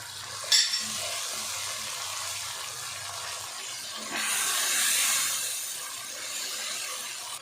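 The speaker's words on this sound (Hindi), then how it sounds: "अब इसमें जाएंगे टमाटर, ये हम डाल देते हैं" Tomatoes drop into frying masala in a pan, setting off a loud sizzle that swells midway and keeps hissing steadily, with a short clatter of stirring near the start.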